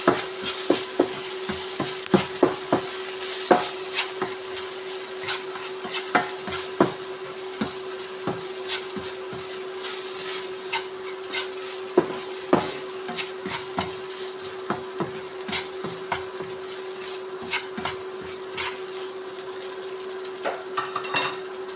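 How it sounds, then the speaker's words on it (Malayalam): Spicy noodles stir-fry in a pan with a constant sizzle, broken by frequent sharp clacks and scrapes from a utensil tossing them. A steady hum runs underneath. "നന്നായി വഴറ്റിയെടുക്കാം."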